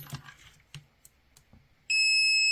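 A PeakTech P 1073 multimeter in continuity mode lets out a steady, loud electronic beep that starts abruptly and holds to the end, preceded by faint clicks and handling noises.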